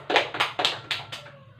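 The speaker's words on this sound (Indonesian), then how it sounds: "kita tepuk tangan ya supaya belajaran itu lebih semangat" A class of students clapping hands together in a classroom, several bursts of applause in a quick irregular rhythm, moderately close, with no talking over it.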